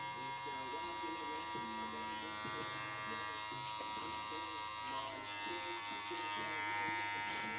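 Electric hair clippers buzz steadily through a mid skin fade at a barbershop, their close, continuous hum shifting slightly as the cut proceeds while someone talks over it.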